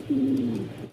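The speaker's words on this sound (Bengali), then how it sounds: "জোড়া পাকিস্তানি টয় লাহোরি, এটা হচ্ছে গ্রেবার" Pakistani toy Lahori pigeons cooing close by: one smooth, sustained coo of about a second, with no other sounds.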